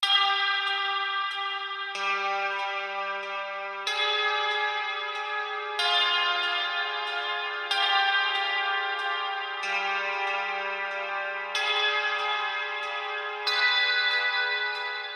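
Clean electric guitar played through the Neural DSP Archetype Gojira plugin with delay and reverb, ringing chords struck roughly every two seconds, each trailing into echoing repeats and a long wash, loud and alone.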